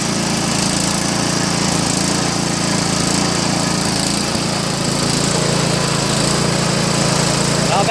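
A snowblower's small engine runs on old, bad gas, a loud, steady, buzzy drone throughout, close up, with no clear voices.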